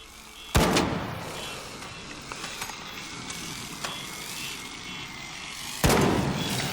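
Video game gunfire from a shooter played with a Steam Controller: two loud, sharp blasts about five seconds apart, over a steady bed of in-game background noise and a few faint clicks.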